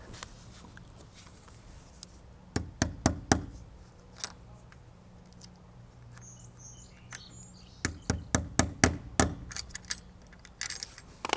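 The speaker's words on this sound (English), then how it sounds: "I'm going to get another one of these little brackets and fasten it there, one on each side" A small bracket being fastened onto a backyard fence for kayak storage: two clusters of sharp, close clicks and taps separated by a quiet stretch, with faint birdsong in the background and no talking.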